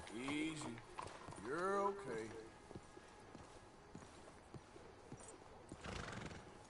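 A horse in the Red Dead Redemption 2 Western game whinnies loudly twice near the start, then hooves clip-clop steadily at a walking pace, with a rider's voice murmuring to calm the animal early on.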